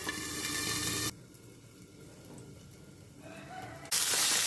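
Potatoes fry in a pan over a medium flame with steady sizzling and occasional stirring. The frying is loud at first, drops to a softer crackle in the middle, then swells loud again.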